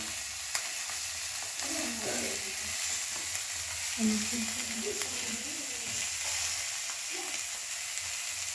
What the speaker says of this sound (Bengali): ডিমটা ভাজা হোক।